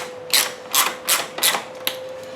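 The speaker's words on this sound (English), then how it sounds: "we're also going to loosen up these bolts that hold the coolant reservoir tank" A ratchet loosens the bolts holding the coolant reservoir tank to the fan shroud on a Ford Mustang EcoBoost, heard as five short, close rasping bursts of clicks spaced evenly apart over a faint steady hum.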